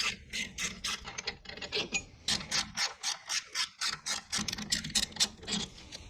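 Ratcheting removal of two 14 mm triple-square caliper bolts on a Porsche Cayenne 958 rear brake, a close, steady series of rapid metallic clicks and rasps with brief pauses, no talking.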